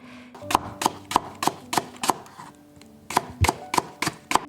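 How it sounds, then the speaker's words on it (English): A knife thinly slicing Japanese leeks on a cutting board, a steady run of crisp, close chops in two bursts with a short pause between, no talking. "Next, thinly slice the Japanese leeks."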